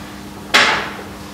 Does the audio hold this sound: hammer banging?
yes